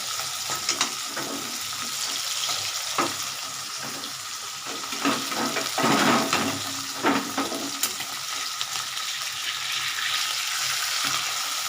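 Small mourala fish fry in oil in a pan with a continuous crackling sizzle, punctuated by occasional spatula scrapes and light clinks, close and steady, with no one speaking.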